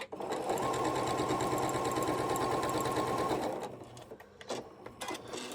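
A sewing machine stitches a quilt block in a fast, steady rattling run for about three seconds, then stops, leaving a few soft handling clicks and faint room noise.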